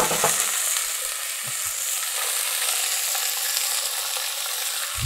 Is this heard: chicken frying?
yes